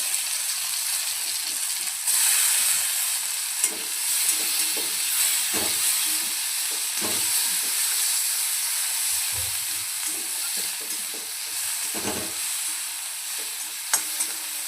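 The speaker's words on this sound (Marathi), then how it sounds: "टमॅटो आपल्याला छान असं यामध्ये तळून घ्यायचे." Tomatoes fry with onion in a pan for a paneer matar curry, a steady loud sizzle and hiss with occasional stirring scrapes and light clinks, no voice over it.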